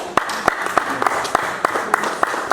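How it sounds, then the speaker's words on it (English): Sparse, sharp claps in a loose rhythm from a church congregation during a sermon, about a dozen distinct hand claps close by with faint background noise between them. "Applause for Jesus."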